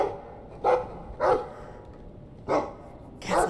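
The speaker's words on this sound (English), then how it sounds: "I like the doggy." Dog barks in the video game Dragon Age II, four short, loud barks spaced irregularly over a quiet background.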